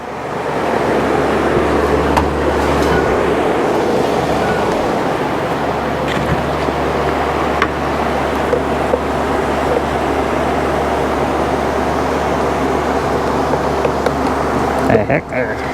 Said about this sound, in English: I got the swamp cooler running full blast.